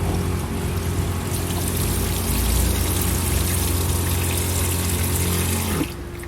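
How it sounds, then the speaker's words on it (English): A shower wand sprays water from a tailgate tap on a small truck bed camper, fed by a water pump. It makes a steady, close hiss of spray that cuts off abruptly just before the end. "And here I've got the shower connected, the shower head."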